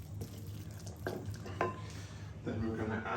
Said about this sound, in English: Now we're gonna slowly, with our spoon, incorporate the yeast into our potato mix.